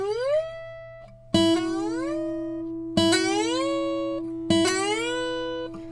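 Acoustic slide guitar playing a scale, each note gliding up in a long, smooth slide and settling on a sustained, ringing pitch; four plucked phrases in turn, clear and close with no voices.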